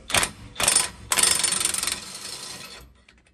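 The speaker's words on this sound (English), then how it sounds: "Gonna put a breaker bar on it" A breaker bar loosens a rear brake bolt on a 2007 Ford Sport Trac, giving three loud, close ratcheting bursts, the last a rapid clicking run that fades out.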